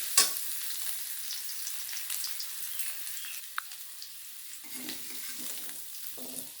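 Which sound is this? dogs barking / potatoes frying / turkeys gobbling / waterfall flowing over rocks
potatoes frying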